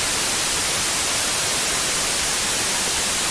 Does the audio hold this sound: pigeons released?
no